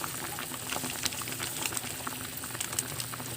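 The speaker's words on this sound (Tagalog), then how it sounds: "Ayan, kumukulo na." Steady bubbling of a pot of sinigang na bangus, a milkfish sour soup, at a rolling boil, a dense wash of small pops and hiss that continues evenly throughout with no talking.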